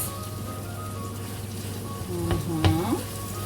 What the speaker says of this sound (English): break the eggs and scramble them around and make sure it all goes like nice and well